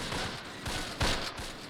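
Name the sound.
gunfire in video game Close Combat Last Stand Arnhem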